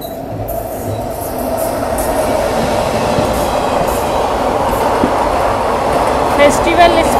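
A train pulling out of Roorkee station on the way to Haridwar, a loud, steady rolling rumble of wheels and carriages building gradually, with faint clacks and a voice speaking over it.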